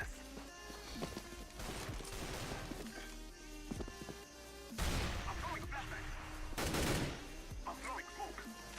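Rapid gunfire bursts from Counter-Strike: Global Offensive come in clusters with heavier volleys midway and near the end, mixed with other game sounds. Someone talks over parts of it.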